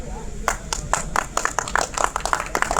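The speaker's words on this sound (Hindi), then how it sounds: "त्रेसर के लिए ताली हो जाए।" Scattered clapping from an audience at a college fresher party, sharp individual claps overlapping into a loose, uneven rhythm, with a murmur of voices underneath throughout.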